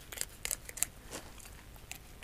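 A knife slicing along a fish fillet toward the tail while cleaning a caught fish: faint, close scraping and crisp ticking cuts in an irregular rhythm, with no talk.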